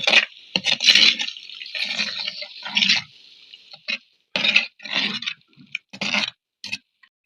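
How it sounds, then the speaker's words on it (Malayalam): Ground masala water is poured into a hot curry pan with curry leaves, producing loud, close sputtering and splashing bursts that come in short stops and starts. "ഇനി ഇതിലേക്ക് നമ്മുടെ അരപ്പിൻ്റെ വെള്ളം ഒഴിച്ചു കൊടുക്കുക"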